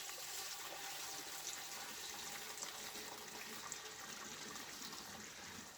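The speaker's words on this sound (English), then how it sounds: "I'm going to pour 5 gallons of sanitizer in it." Five gallons of sanitizer pours from a bucket into a beer keg in a steady, unbroken rushing gush that fills the whole stretch at an even level.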